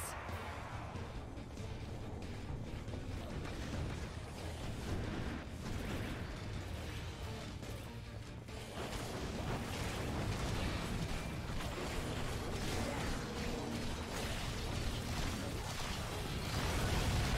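Enemies detonate in the Orcs Must Die! 2 video game, making a dense, continuous barrage of rumbling explosions and pops that grows louder toward the end, with no talking.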